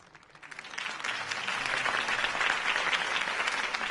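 A crowd breaks into applause, swelling quickly and holding as a steady wash of clapping, in the game Batman: The Telltale Series.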